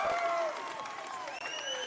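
Basketball crowd in a gym breaks into a short burst of applause and cheering, clapping loud at first and then thinning out, with tonal squeaks and an announcer's voice over it.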